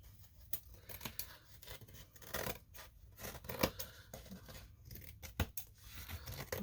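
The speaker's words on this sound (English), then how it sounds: "now I'm going to take my scissors, and now we will trim this little bit around the edge" Scissors snip and trim around the edge of a quilting design board, a string of quiet close crisp cuts at an uneven pace with soft rustling between.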